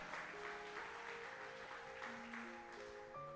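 A church congregation applauds during a bishop's sermon, a steady wash of clapping that runs the whole time beneath sustained keyboard chords shifting in pitch.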